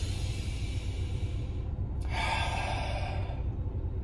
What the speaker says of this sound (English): So surrender. Take a deep breath.